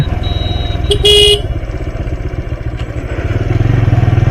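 A motorcycle engine chugs steadily and loudly up close while riding a dark village road through a bamboo grove at night, with a short horn toot and a brief clatter early on.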